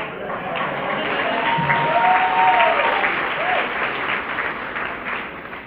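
Audience applause at a campaign Q&A in Las Vegas, a steady, close crowd clapping with faint murmuring voices underneath.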